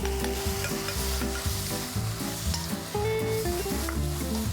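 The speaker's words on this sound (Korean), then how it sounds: "요 열무를 한번 살짝 볶아서 준비하겠는데요" Young radish greens (yeolmu) stir-frying in a pan, a steady loud sizzle with stirring scrapes, while music plays throughout.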